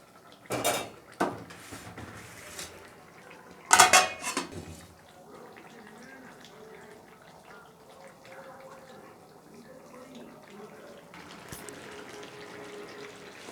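Metal clatter of a cooking pot and lid while fish curry with bottle gourd and potato simmers, a few sharp knocks early on, then a quiet bubbling background with one more clank near the end.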